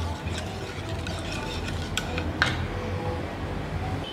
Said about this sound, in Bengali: এবারও আমি ভালোভাবে মিশিয়ে নিচ্ছি।